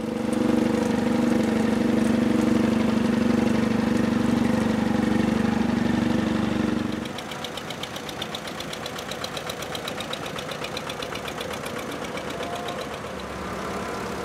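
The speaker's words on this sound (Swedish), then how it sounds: "Här är en boxer och en BM10." A Boxer and a BM10 tractor in a parade at Målilla Traktor Power Weekend 2014 run with a loud, deep, steady engine drone that shifts midway into a lighter, rattling chug as the nearer engine drops away.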